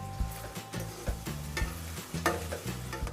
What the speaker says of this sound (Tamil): இதெல்லாம் கொஞ்சம் சீக்கிரமாக வதக்கணுன்றதுக்காக சிறிதளவு கல்லுப்பு போட்டு வதக்கிக்கலாம்